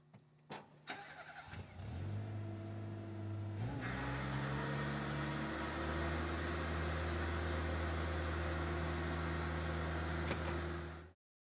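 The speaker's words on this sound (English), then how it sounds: "start your machine, and lower the hopper." A Tennant M20/M30 floor scrubber starts up with a few clicks, then its engine catches and settles into a loud, steady hum and whine that continues as the hopper lowers, before cutting off abruptly.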